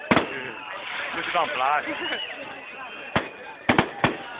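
Fireworks go off at a town celebration in Roșiorii de Vede, with a few sharp bangs near the end following a stretch of people talking.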